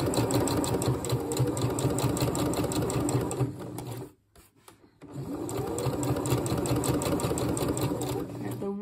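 A sewing machine stitches a dress seam in a rapid, steady rattle, pausing briefly midway before resuming at the same close, even pace.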